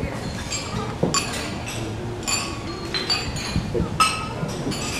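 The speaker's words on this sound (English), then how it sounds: "May I ask everyone to raise a glass and join me in a toast to Jill and Chris" Many glasses clink together in a toast at a wedding reception, bright, scattered bursts amid a murmuring crowd of voices.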